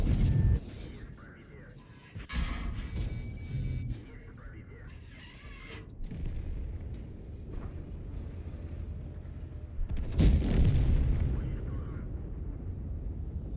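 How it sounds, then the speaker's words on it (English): Tank cannon shells fired in World of Tanks battle, with deep booming blasts at the start and a louder shot around ten seconds, over steady rumbling game ambience. "So we can fire 3 shells."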